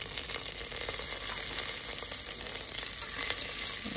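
Green chili, curry leaves and garlic stir frying with cumin, urad dal and sesame seeds in hot oil, a continuous bright sizzle and crackle with scraping stirring noises close by.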